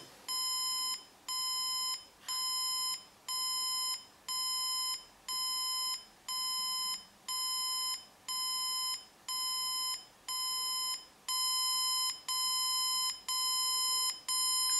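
An electronic alarm clock beeps in steady bursts, each roughly a second long, repeating evenly and growing slightly longer toward the end; no voices.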